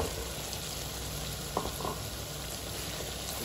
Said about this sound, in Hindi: अब हम इसमें ऐड करेंगे कद्दू।